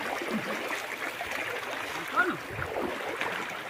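Stream water flowing steadily while crossing a river in a remote Gorontalo village, a continuous broadband rush with a brief splash midway; speech may be present faintly.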